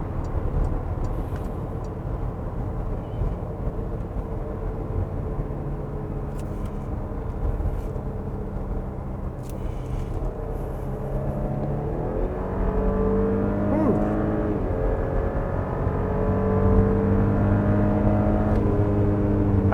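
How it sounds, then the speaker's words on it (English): The V6 engine of a 2019 Porsche Cayenne drones steadily while driving, heard from inside the cabin, then rises in a smooth climbing roar as it accelerates in the second half, loud and continuous with no talking. "You can really hear the V6 just roaring."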